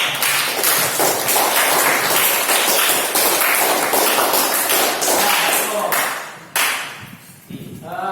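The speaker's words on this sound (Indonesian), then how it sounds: "Kita beri aplaus untuk kelompok 4" Classroom applause for a student group, a sustained burst of many hands clapping for several seconds, then tapering off before a voice speaks.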